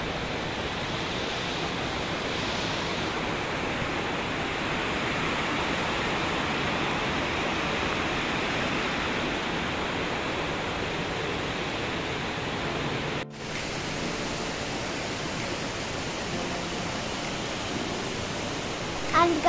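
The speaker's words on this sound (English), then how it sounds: "this falls name is Vickery Falls, Vickery Creek Falls, and this is near the Roswell Mill." Steady rushing water of Vickery Creek Falls near Roswell Mill, a continuous broadband roar heard at moderate distance with no talk, holding constant throughout.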